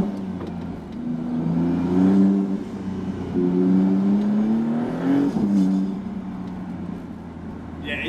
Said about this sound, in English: the exhaust note in conjunction with the turbo whistles and it's pretty good